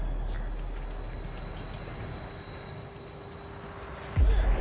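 A crane in the Oddworld: Soulstorm video game moves with a steady mechanical rumble and a faint whining hum that runs throughout, ending in a louder, heavier low thud near the end. No talk.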